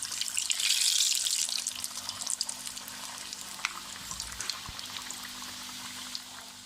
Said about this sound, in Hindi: अब हम अपने समोसों को फ्राई कर लेंगे।